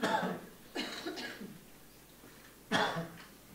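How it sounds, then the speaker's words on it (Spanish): A man coughs during a medical lecture: a sharp burst, a weaker double cough, and another strong cough near the end, close and alone in a quiet room. "que voy a toser del todo y así termino"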